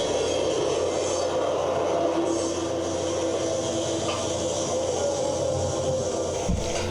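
Diesel freight train hauling coal on a Western Australian rail line near Collie, a steady broad rumble and rolling drone that holds throughout at moderate level with no talk.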